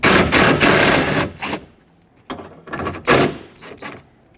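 Ratchet or power tool working 10mm bolts on a 2009-2014 Ford F-150 rear door, in a few short bursts of rapid whirring clatter separated by pauses, close and loud.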